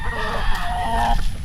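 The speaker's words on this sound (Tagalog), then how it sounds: "Kaya mga manok nila dito, mga palahi nila." Bearded breeding roosters and chickens on a farm make a drawn-out crow and scattered clucks, moderately close, over a low background murmur.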